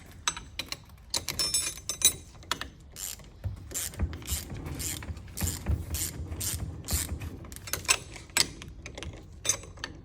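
A ratchet with an 18 mm socket tightens a bolt on a BMW F01 rear air suspension, making repeated rapid clicking bursts in an uneven rhythm, close and fairly loud, with no talk.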